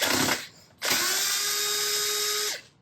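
A power tool removes plastic 10mm nuts from the front bumper of a Porsche Panamera 971, giving a short whir, a brief pause, then a loud, sustained high-pitched spin of about two seconds close up.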